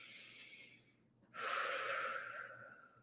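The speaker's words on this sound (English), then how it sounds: "So really slow, deep breaths." A single slow, deep breath, first a quiet inhale and then a longer, louder airy exhale, close up with no talking.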